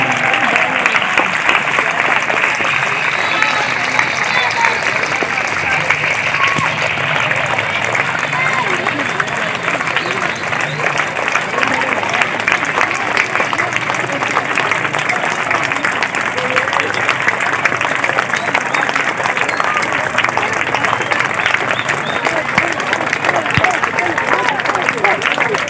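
A large crowd at an Independence Day gathering claps loudly and continuously, a thick, even roar of applause with murmuring voices mixed in underneath.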